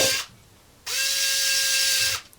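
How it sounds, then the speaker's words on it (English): A small screwdriver for Casio G-Shock watches whirs close by in two bursts, one brief and one longer and steady, with a quiet pause between them. "either to screw down the screw or to unscrew it"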